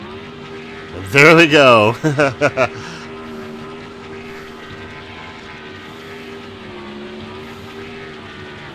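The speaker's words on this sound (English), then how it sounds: "Let's turn some donuts in the grass." A race car in the NASCAR Thunder 2003 video game spins donuts in the grass, its engine roaring in a loud revving burst with rising and falling pitch, then settling into a steady droning hum while a voice speaks briefly.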